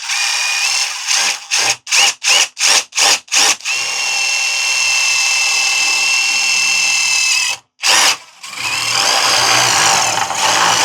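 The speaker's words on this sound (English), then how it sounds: "I'm just going to drill a hole in this corner." A power drill fitted with a large bit bores a hole through the corner of an RV floor, starting with a series of short, loud pulsed bursts, then a long steady whine and another brief burst near the end.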